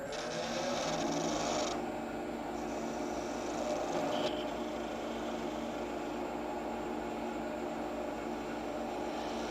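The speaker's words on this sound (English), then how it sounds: "I'm going to take a little skew and finish off my tenon." A wood lathe runs with a steady whirring hum while a small skew chisel trims a tenon on a turned bottle brush handle, the cutting adding slight shifts in tone over the continuous motor drone.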